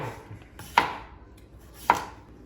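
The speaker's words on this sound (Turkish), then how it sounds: "Patatesleri böyle ince ince doğradım." Two crisp knife strokes thinly slicing potatoes hit a cutting board about a second apart, near and clear against quiet surroundings.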